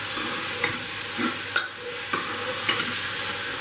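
Mixed vegetables for a foxtail millet khichdi sauté in a pan, a soft continuous sizzle broken by several distinct scraping stirs of a spoon, close up and without speech.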